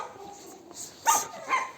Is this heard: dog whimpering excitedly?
yes